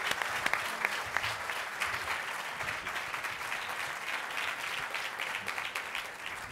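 An audience at an Aspen Words literary evening gives Dan a sustained round of applause, dense, even clapping from a crowd of listeners that continues throughout.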